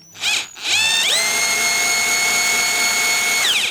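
A Parkside PBZS 5 A1 drill pump spins up with a steady high motor whine, a short burst then a sustained run of about three seconds that winds down at the end, close and loud with no talking.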